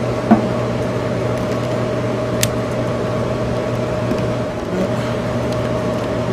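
A homemade solar-powered attic fan runs steadily in an attic, giving a constant low motor hum with a faint mechanical drone and a couple of small clicks, with no talking over it.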